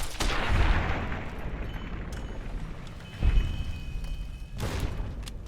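Bomb blasts in the Fallout video game, several deep booms spaced a second or so apart, each with a short rumbling tail, loud and close with no talk over them.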